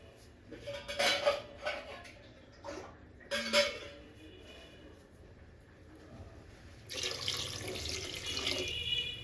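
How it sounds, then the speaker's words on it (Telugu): Water is poured into a pot of rice for khichdi in a home kitchen, with a couple of sharp pot and utensil clinks early on, then a steady pouring rush toward the end. "బియ్యానికి గ్లాసున్నర నీళ్ళు యాడ్ చేసుకున్నాం"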